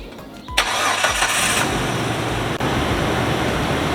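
A cheap heavy-duty tire compressor starts up with a sharp burst, then settles into a continuous loud, buzzy motor drone that runs steadily, with one brief dip.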